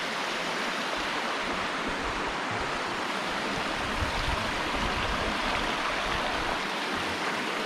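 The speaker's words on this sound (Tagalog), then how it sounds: "look at the water stream" A mountain stream near Mount Baker in Washington State tumbles over rocks, giving a steady, close rushing wash of water that fills the scene without pause or speech.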